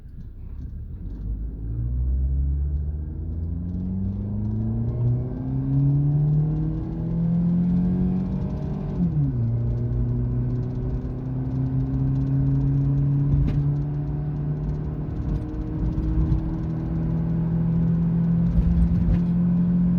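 EasyCoach bus accelerating on a road toward Nairobi, a steady close engine drone whose pitch climbs, drops at a gear change, then climbs again over a constant road rumble with light rattles.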